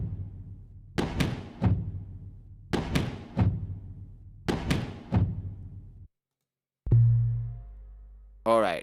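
Drum samples in an Ableton punk rock session play with the kick in three paired hits, punchy low thumps with sharp attacks, followed after a short silence by a sustained tone and a quick sweeping sound.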